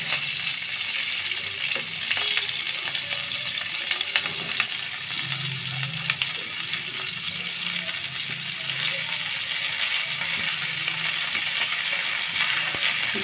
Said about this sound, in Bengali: এই মশলাটা আমি একটু ভালোভাবে ভেজে নেব